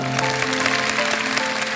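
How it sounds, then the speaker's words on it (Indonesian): Clapping from a church congregation during a sermon, a dense steady patter filling the whole moment over a sustained musical hum, with no voices standing out. "Mari kita beri tepuk tangan"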